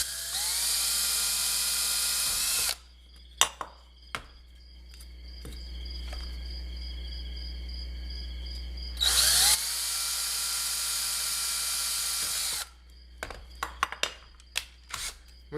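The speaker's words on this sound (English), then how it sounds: "And then we could go ahead and drill through the aluminum." A loud, steady high-pitched whine of a power drill boring through aluminum for a pedal board box, running in two long stretches with clicks and taps in between.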